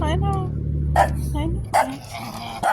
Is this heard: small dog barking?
yes